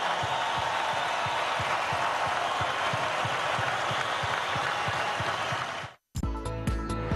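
An audience claps in tribute to a great man, a steady, even patter of many hands that continues for about six seconds before cutting off abruptly.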